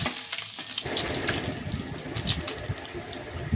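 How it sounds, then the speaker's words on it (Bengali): Fish fry one by one in a pan, a loud crackling sizzle that bursts in just under a second in and then continues steadily and close, with no talking. "এক এক করে আমি ভাজতে শুরু করে দিয়েছি"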